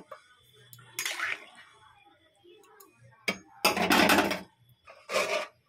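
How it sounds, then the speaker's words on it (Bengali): Water poured into a pot of fish curry with cauliflower and morola fish, heard as a few separate bursts of splashing, the longest and loudest near the end, with quiet kitchen clatter in between. "একেবারে জল দিয়ে দিয়েছি।"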